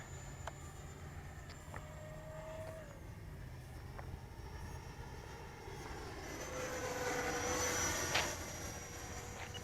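An FMS BAE Hawk RC model jet comes in to land, its steady turbine-like whine droning continuously, swelling louder as it passes closer near the end.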